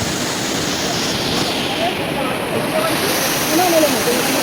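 A monsoon stream at Bhandardara in Maharashtra rushes steadily and loudly, with people playing in the water downstream; the broad, continuous roar of flowing water fills the whole clip with faint voice-like traces inside it.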